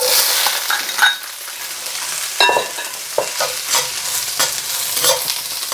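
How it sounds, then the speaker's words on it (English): Sliced mushrooms and peppers fry in hot oil with rice in a pan, a steady loud sizzle broken by scraping stirs and clattering tosses throughout. "And then we can add our sliced mushrooms and peppers."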